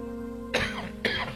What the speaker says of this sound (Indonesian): Seperti batuk gini